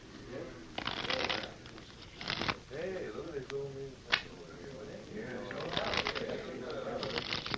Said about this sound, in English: Mind if I shuffle them once?